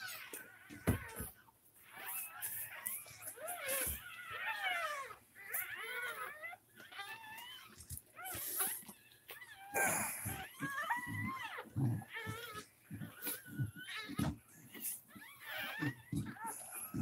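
Newborn puppies cry in thin, high, cat-like mewls, many overlapping squeals close by and fairly faint, with occasional quiet human talk.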